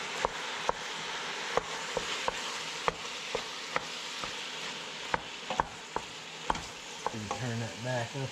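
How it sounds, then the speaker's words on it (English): Ground beef and pork browning for chili in a pan, a steady close sizzle under repeated sharp scrapes of a spoon stirring at a loose rhythm, with no talk. "now what we're going to do is just going to brown the burger and the pork up"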